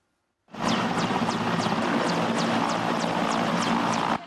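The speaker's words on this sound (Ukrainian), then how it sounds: "Цей гвинтокрил знову забрав тяжко поранених вояків." Military helicopter lifting seriously wounded soldiers away from a front-line position in the Donetsk sector, a steady loud rotor and engine roar starting abruptly and holding continuously with rhythmic blade thumps, no talk.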